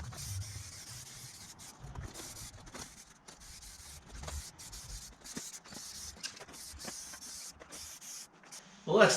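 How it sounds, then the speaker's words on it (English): Spray paint is applied to a steel welding cart frame, a run of hissing bursts in short pulses and longer passes, close and moderately loud, ending with a sharper clatter. "we'll spray a bit of paint on it before we put the shelves in"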